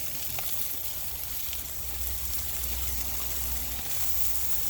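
Peas and carrots sizzle steadily on a hot Blackstone griddle with a little oil, a dense, continuous hiss with faint crackles that holds at an even level throughout.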